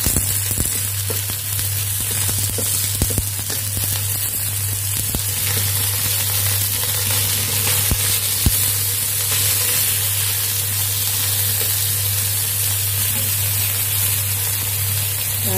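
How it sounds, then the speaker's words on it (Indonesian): Chicken wings frying slowly in hot oil, a continuous close sizzle with crackling pops over a steady hum. "Kita goreng dulu sampai sedikit kekuning-kuningan"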